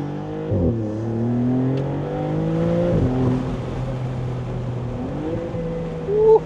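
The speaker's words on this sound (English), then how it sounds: "I'm gonna give it a nice kick for you, and I'm gonna be quiet so you can pick up the induction sounds and the beautiful sound of the V6." A 2023 Maserati MC20 Cielo's V6 revs hard in paddle-shift mode, its loud, close engine note climbing through the gears, with clear shift breaks as it pulls up to second gear.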